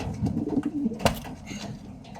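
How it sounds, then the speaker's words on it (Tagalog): Low, rolling coos from a racing pigeon repeat in soft bursts, close by, with a brief louder knock partway through. "Ang ating ibon na si Daomisu"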